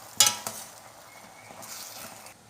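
Okra (bhindi) palya is stirred in a pan with a couple of sharp metallic clinks of a spoon, followed by a soft sizzle and scraping, close and fairly quiet.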